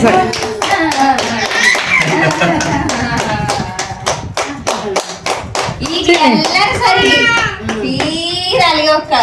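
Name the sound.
hand clapping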